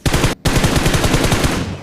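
Rapid automatic gunfire from PUBG Mobile, a loud continuous burst of closely spaced shots with one brief pause early on, heard alone.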